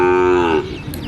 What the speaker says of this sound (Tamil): இங்கே ஒரு குட்டி மாடு, சின்ன மாடு.